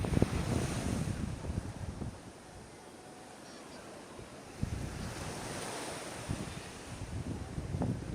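Small, shallow waves washing onto a beach at Sabang, Indonesia, a steady broadband surf wash with wind buffeting the microphone and a few louder low rumbles.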